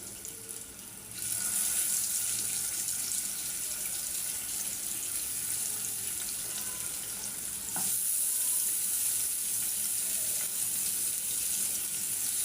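Water from a kitchen tap runs steadily into a sink as hilsa fish are washed, a constant close splashing rush with a brief shift in the flow partway through.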